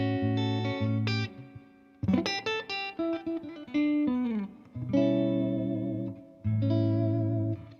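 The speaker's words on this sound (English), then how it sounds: "Listen to that luscious reverb." A Reverend Jetstream RB electric guitar played through an amp with reverb turned all the way up, sustained chords and short picked phrases on neck and bridge pickups ringing out and decaying in a wash of echo.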